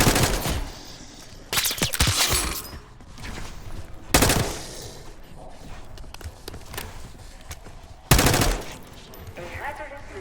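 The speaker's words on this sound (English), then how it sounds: "You hearing gunfire?" Automatic gunfire in the Black Ops 6 campaign, coming from lower floors of a building: bursts of rapid shots break out in several loud clusters, separated by quieter stretches of echoing, rattling room tone.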